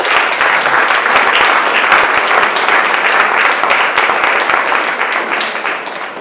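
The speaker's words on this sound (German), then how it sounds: "ich denke, unsere beiden Referenten haben einen großen Applaus verdient" Loud, sustained audience applause for two panelists after a public discussion on TTIP, a thick wash of many hands clapping close by, holding steady for several seconds before easing slightly, with no talking.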